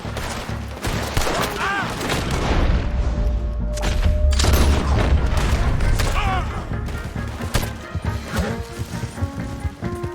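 Gunfire in the video game Red Dead Redemption 2, loud rapid shots and booming blasts in a heavy fusillade with hoofbeats, shouted voices between bursts.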